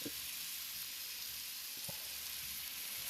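Marinated steaks sizzle on a grill plate in a steady, soft hiss with faint crackles, heard close and alone.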